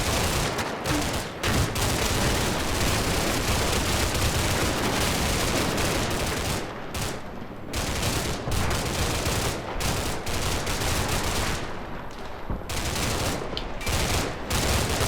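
Sustained, dense small-arms and machine-gun fire from American troops in the Combat Mission: Cold War wargame, loud and continuous with overlapping bursts and brief dips, no talking.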